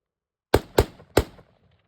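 Three sharp, loud handgun shots fired off a magazine in Mozambique drill practice, a quick double tap followed by a third after a short pause, each with a brief ringing tail in open quiet.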